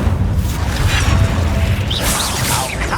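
An Incendio fire spell in Hogwarts Legacy erupts as a loud, dense roaring blast with crackling whooshes, steady and close throughout, with faint combat effects layered on top.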